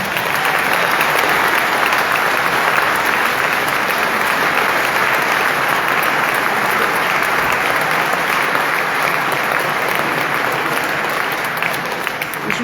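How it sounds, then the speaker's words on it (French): A crowd at a rural solidarity gathering for farmers in Osses applauds steadily and loudly for more than twelve seconds, a dense, even wash of many hands with no break. "Je pense qu'on peut les applaudir d'être là."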